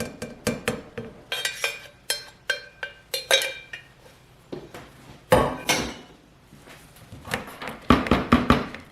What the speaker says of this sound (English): we tap the stick blender, or some people swirl, to release all the air that might be caught in the shaft